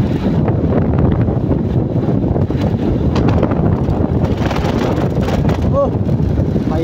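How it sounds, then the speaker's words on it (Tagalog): Strong wind buffets a vehicle on a wet, rainy highway, a loud rough rumbling roar with gusty fluctuations across the whole stretch, close and unbroken. "Malakas ang hangin ah."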